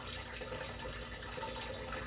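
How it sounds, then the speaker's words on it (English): Water pouring steadily out of the drain pipe of a homemade aquaponic system, a continuous close, dense gushing and splashing flow with no pauses over the short span. "It is filtering right out the drain pipe just like I wanted it to."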